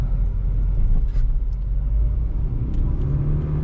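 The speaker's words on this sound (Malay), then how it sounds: "tengok kereta ini tengah test running kereta" A 2017 Proton Persona 1.6 automatic idles steadily with a deep, continuous low rumble and a few faint clicks over the top, close by and fairly loud.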